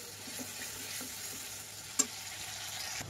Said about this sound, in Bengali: রসুনটা একটু ভাজা হয়ে যাবে, তারপরে দেবো আদা বাটা।